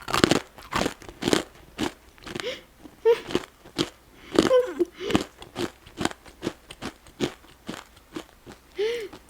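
Loud, close crunching bites and chewing of a hard, stone-shaped pepper potato snack, with repeated sharp crunches in an irregular rhythm and a few soft vocal sounds between bites.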